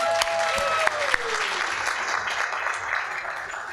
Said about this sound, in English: why don't we all give a big hoorah or a clap or something?